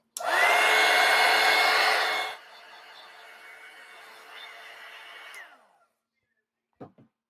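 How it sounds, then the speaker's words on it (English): A hair dryer runs loud and close for about two seconds while drying glue on a craft project, then drops to a lower, steadier whir before switching off, followed by a couple of faint clicks. "now I'm going to give this a quick dry"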